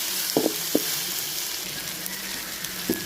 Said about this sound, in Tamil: தக்காளி நல்லா வதங்கட்டும்.